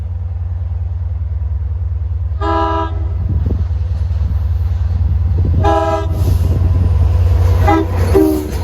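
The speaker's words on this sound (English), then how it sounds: "Here comes Train 8 at 12:52." An LIRR train from Jamaica to Montauk approaches near Patchogue with a low rumbling engine, sounding three loud horn blasts as it nears, louder toward the end.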